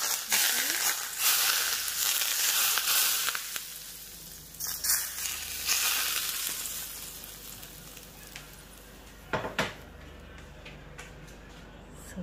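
Hot cooking oil poured over steamed silver perch with ginger and shallots, a loud hissing sizzle that swells in bursts and fades, with a few sharp clinks near the end.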